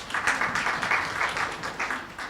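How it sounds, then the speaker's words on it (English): A symposium audience claps steadily in a dense, continuous patter of applause that carries on without a break. "we need to clap for ourselves"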